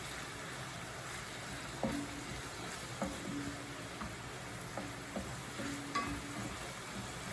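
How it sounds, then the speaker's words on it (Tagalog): Minced ginger hisses in a hot pan in a soft, steady sizzle, with a few light clinks of a utensil stirring it at intervals. "we can already add the minced ginger. So I'll just add it, mix them all together."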